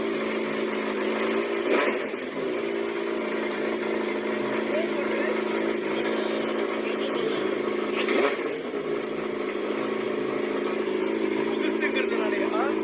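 A Suzuki Hayabusa motorcycle idles with a steady, loud exhaust note that holds throughout, broken twice by brief blips of throttle, and a voice is faintly heard over it.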